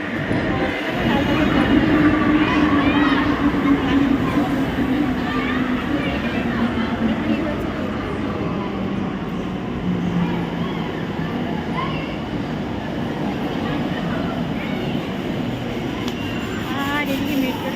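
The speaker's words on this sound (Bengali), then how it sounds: "আর এদিকে মেট্রো ট্রেন চলেছে।" A metro train running past, with a loud, continuous rumbling roar and faint rail clatter that holds steady for the whole stretch, while people talk nearby.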